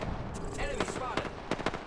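Bursts of gunfire in the battle royale shooter Apex Legends, with a few sharp close shots and clattering reports over game effects and brief character voice lines.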